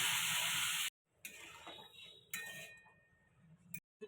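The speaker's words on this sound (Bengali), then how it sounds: "জল দিয়ে দিচ্ছি।" Water poured into ginger paste and spices frying in a pan for a catla fish curry with potato and cauliflower gives a loud, hissing burst of sizzle for about a second, which cuts off sharply. Softer clinks and scraping follow.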